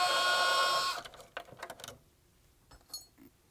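Electric screwdriver whirs steadily while backing screws out of a PS5 console, then cuts off, followed by light clinks and taps of small metal screws being handled nearby.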